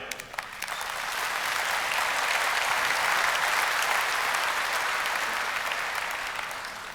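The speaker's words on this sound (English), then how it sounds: "merci à eux et je vous propose de les applaudir." Sustained applause from a conference audience thanking the event sponsors, a dense steady wash of many hands clapping that swells quickly and holds for several seconds with no talk over it.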